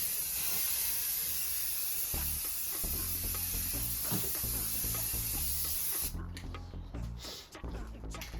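A spray can of primer hissing steadily and close as an even coat goes on, with a brief break and shorter hissing bursts near the end.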